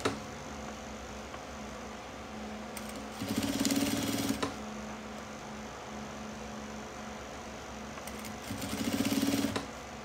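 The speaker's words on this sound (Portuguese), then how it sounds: "Vou pra máquina e faço essa costura aqui, ó, só pra deixar todo mundo junto." A domestic sewing machine runs in two short bursts while stitching the seam of a fabric crossbody bag, each run about a second long with a steady mechanical whir, separated by a quiet low hum in the room.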